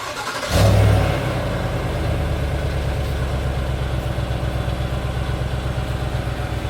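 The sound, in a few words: Cadillac Escalade with stock exhaust, engine revving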